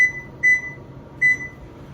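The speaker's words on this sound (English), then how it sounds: "And I'm setting a timer for 30 minutes." Electronic kitchen oven timer being set while baking a strawberry chiffon cake, three short, bright, clear beeps with quiet pauses between them and no talking.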